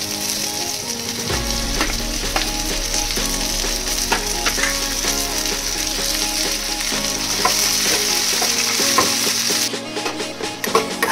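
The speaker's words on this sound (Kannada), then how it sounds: "ಚಟಪಟ ಅಂತ ಇದೆಯಲ್ಲ" Okra (bhindi) fries in hot oil in a kadai for an Indian bhindi fry, giving a steady, loud, dense crackle and sizzle that carries on for the whole stretch with no talking.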